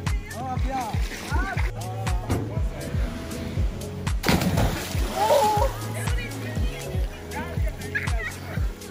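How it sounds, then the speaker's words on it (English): Water splashes repeatedly at Mount Gambier, with irregular nearby splashes and sloshes mixed with frequent excited voices and shouts of a family throughout. "Too much splash."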